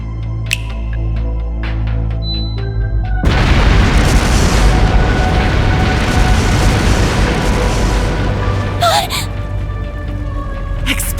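Loud, dense burst of booming explosions from scattered explosive artifacts set off like a fireworks show in a palace in the video game Trails through Daybreak, a sustained rumbling roar lasting several seconds after a quieter opening.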